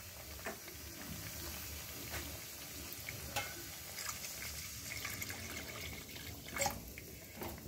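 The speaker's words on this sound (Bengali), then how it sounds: "এবার জল দিয়ে দেবো" Water goes into a pan of spices fried in oil while a rohu fish rezala is being made. The soft, quiet pouring and splashing blends into a low sizzle, with faint stirring knocks.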